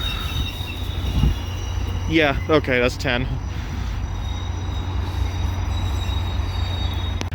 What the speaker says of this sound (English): And I see our train coming down now